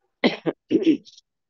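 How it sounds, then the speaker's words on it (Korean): A person coughs a few times in quick bursts, then clears their throat with a couple of rough, raspy rasps, close and alone in a quiet room during a Korean church Bible study. "말만 하려면은 기침이 나와가지고"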